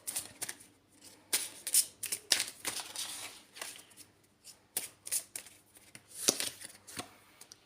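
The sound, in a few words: shuffling oracle cards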